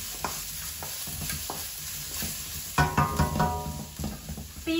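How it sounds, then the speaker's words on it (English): Garlic and chili stir-fried in a pan for beef with green pepper and black bean sauce, a soft steady sizzle with scraping stirs that grow louder and busier toward the end, no talking. "garlic and your chili can go in now. Just give it a quick stir fry"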